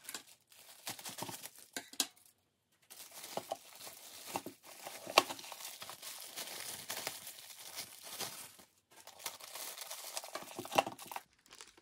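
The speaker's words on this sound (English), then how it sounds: "It's sealed, so we'll have to cut this to open it." Sealed plastic packaging of a Waterpik water flosser crinkles and rustles up close as it is cut and pulled open, with continuous crackling handling noises broken by short pauses.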